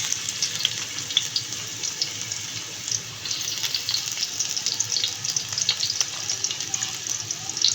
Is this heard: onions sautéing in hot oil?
yes